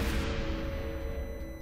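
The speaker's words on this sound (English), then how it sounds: "This gong must be used as a call to worship." A gong struck in the video game Call of Cthulhu: a loud, booming metallic tone that rings with a steady hum and slowly fades, heard alone.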